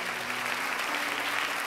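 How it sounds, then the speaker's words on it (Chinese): Dense, steady clapping from a studio audience on a Chinese talk show, loud and close, filling the whole moment without pause. "介绍完毕，掌声鼓励。"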